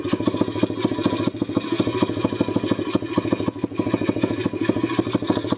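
Single-cylinder dirt bike engine, recently crashed and under repair, idling close and loud with an uneven, stumbling pulse of rapid thumps throughout.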